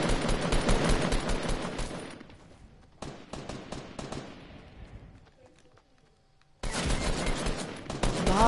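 Video game gunfire in bursts: a loud volley of shots, a drop, another run of sharp cracks fading into near silence, then a sudden loud burst returning at the end, with some voice in the mix.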